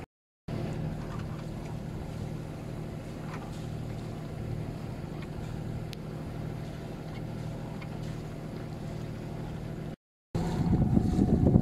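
A sailboat's engine drones steadily with a low hum while motoring at sea, wind buffeting the microphone, then a brief cut and a louder, rougher stretch of motor and wind.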